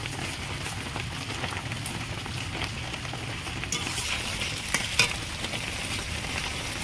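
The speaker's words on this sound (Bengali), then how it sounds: "তার মশলাটা ভালো করে কষিয়ে নেব। যতক্ষণ না তেল ছাড়ছে ততক্ষণ আমি এইভাবে কষিয়ে নেব।" Ground spice masala fries in hot oil in a pan for a katla fish kalia, a close, steady crackling sizzle like light rain, with a few sharp clinks and scrapes of stirring near the end.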